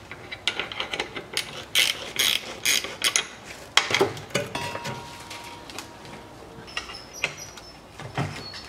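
Ratchet wrench loosening the transmission mount on a 1993 Mitsubishi RVR N28W, heard as repeated close metallic clicking bursts in short irregular runs, with occasional clanks of tools against metal.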